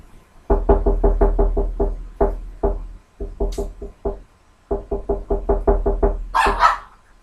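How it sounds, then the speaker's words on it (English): A dog barks in rapid bursts, several quick runs of loud, close barks separated by short pauses, ending with a higher yelp-like sound. "Stupid dog!"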